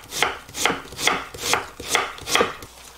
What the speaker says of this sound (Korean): 대파를 크게 이렇게 썰어 놓겠습니다